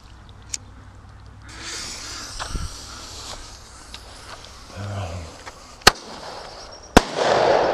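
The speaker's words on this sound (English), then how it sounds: "I'm gonna shoot the aerial grenade in that direction" An aerial grenade firework shot over a lake explodes in two sharp, loud bangs, about a second apart, against a background of outdoor noise and rustling.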